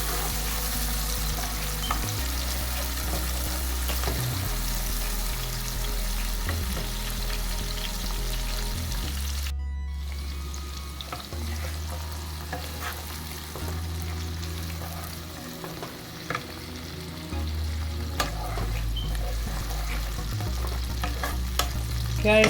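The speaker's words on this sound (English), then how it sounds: "You have to keep stirring it so that the seasonings won't burn." Seasonings sauté on low heat in a pan for ackee and saltfish, sizzling steadily while a utensil stirs and scrapes throughout, with a short quieter break partway through before the frying resumes.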